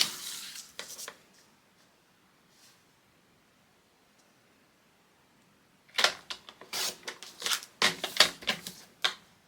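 Paper being trimmed for a handmade Secret Garden folio: a short burst of crisp cutting snips at the start, a quiet pause, then a longer run of rapid, uneven snipping and rustling close by.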